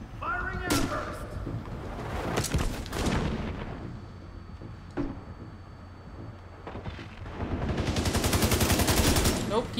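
Heavy air-burst weapon fire from The Division 2 rattles out in loud, rapid volleys with booming bursts and gaps between them, plus a swelling sustained barrage near the end.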